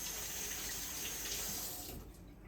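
A sink tap runs steadily for hand washing in a home kitchen while cornbread is being made, a continuous close hiss of flowing water that thins out near the end.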